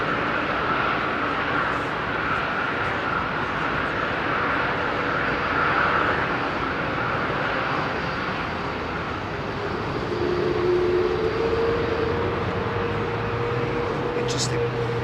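A Boeing 787 airliner starting to taxi at London Heathrow sends out a broad, steady engine rumble and whine, loud and continuous, with a voice talking over it.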